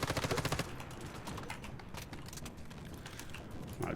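Rapid gunfire in the Once Human video game, with a fast burst of automatic shots at the start and then scattered sharp single shots and mechanical clicks. It is close and fairly quiet, with no voices.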